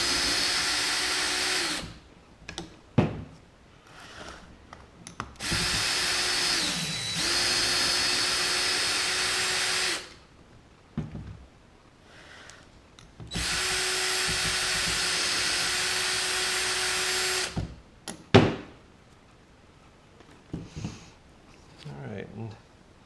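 DeWalt power drill fitted with a 1/4-inch extension whirs in three sustained bursts of several seconds each, loud and close, separated by quieter handling clatter and brief talk.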